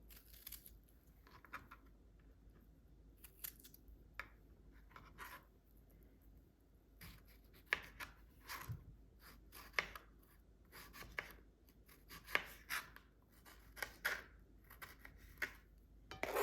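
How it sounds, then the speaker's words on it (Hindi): A knife cuts strawberries on a board with soft, irregular taps and slicing scrapes, quiet and close, with busier cutting in the second half. "स्ट्रॉबेरी को काट लेते हैं।"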